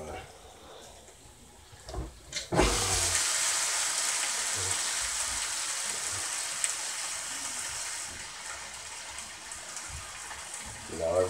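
Meat sizzling in a hot pan during home meal prep, a loud steady hiss that erupts suddenly after a couple of soft clatters and holds for several seconds before easing slightly.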